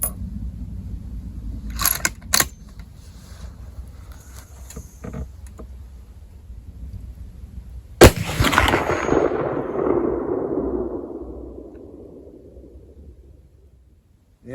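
A Mosin Nagant 91/59 carbine fired with Czechoslovakian training ammo at an outdoor range: a few sharp reports early, then one loud close shot whose boom rolls and decays for several seconds.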